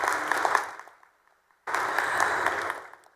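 Two bursts of applause for nurses in a Senate chamber gallery: a loud round of clapping fades out, falls briefly silent, then starts again just as strongly.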